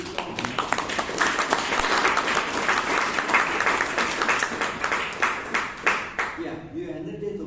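An audience at a Toastmasters meeting applauds steadily for several seconds, dense clapping that fills the room and then tapers off, with faint voices underneath.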